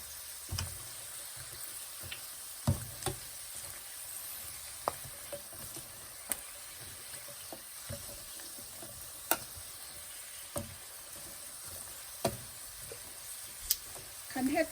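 Pork rinds frying in hot oil, a steady close sizzle with scattered small pops and crackles throughout, with occasional quiet talk in the background.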